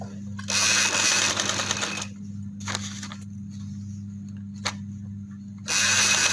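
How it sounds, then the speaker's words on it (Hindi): Sewing machine stitching trouser fabric at a boutique, running in three bursts, one long, one short and a final run, with a brief click between them and a steady low motor hum throughout. "तो अब इसको मैं इधर से सिलाई लगा के जोड़ लूँगी"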